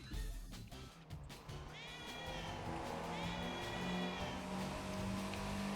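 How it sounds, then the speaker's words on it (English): In the racing game The Crew 2, a car horn plays a cat's meow, giving two drawn-out meows over a loud, steady engine drone. "My car horn is a cat meowing."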